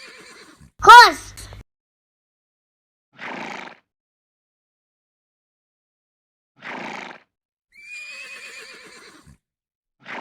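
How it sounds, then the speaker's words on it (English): A horse gives a loud, close whinny, followed by a few quieter snorts and a final neigh, with silent gaps between each sound. "Horse."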